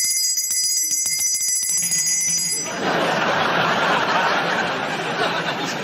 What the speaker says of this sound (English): I ring this bell, and then this happens